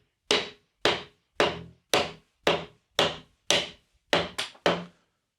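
Ten sharp wooden whacks from a scrap-wood lever prying nail-fastened plywood sheets off a floor, evenly spaced about half a second apart, near and loud, with a quick double strike near the end.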